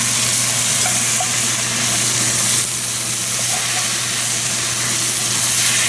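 Goat meat and its juices sizzle and fry steadily in a pot of keto stew. The hiss is loud and continuous, with a steamy, crackling texture that lasts the whole time, and no one speaks.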